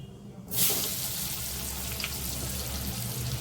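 Onions drop into hot oil in a pan while chicken curry is being cooked, setting off a sudden loud sizzle that settles into a steady, close frying hiss for the rest of the moment.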